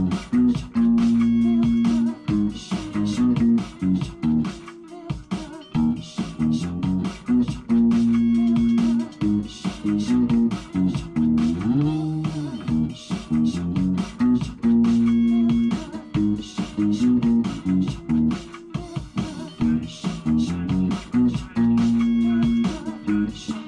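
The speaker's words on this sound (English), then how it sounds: "The first thing we're going to play is the intro" Bass guitar playing the intro riff in standard tuning, a loud, close, repeating groove of plucked low notes and slides with a steady rhythm, heard alone without talking.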